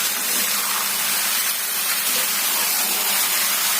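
Tomato quarters hitting a hot pan, giving a loud, steady hiss and sizzle of spattering oil and steam that holds evenly throughout with no talking.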